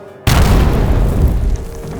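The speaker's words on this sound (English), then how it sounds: "My heart jumped when I heard the dull thud of an explosion" A dull, heavy explosion as a demolition team blasts a door open, bursting in suddenly after a near-silent moment, then rumbling on loudly with no voices.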